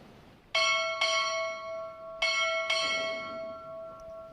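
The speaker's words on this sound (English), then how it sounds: "Time orderly, strike 4 bells." A ship's bell rings four times in two paired strikes at a U.S. Navy Recruit Training Command boot camp graduation, each clear metallic ding ringing out and decaying.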